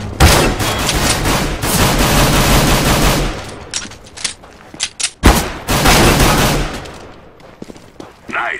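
A P2000 pistol with the Pulse skin fires in Counter-Strike: Global Offensive, with dense rapid gunfire bursts at first, then separate sharp shots with short pauses and more bursts, loud and close.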